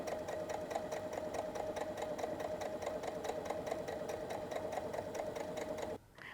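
A sewing machine runs steadily as it stitches fabric over cording to make piping, a close, even mechanical hum that continues unbroken for several seconds before cutting off abruptly near the end.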